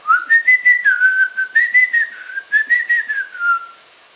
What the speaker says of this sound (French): Et oui, je sais siffler.